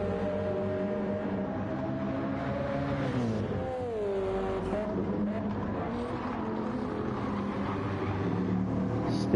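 A Mercedes V8 GT2 race car in a racing video game climbs a hill under power, its engine holding a loud, steady roar that rises and falls in pitch as it revs through the run.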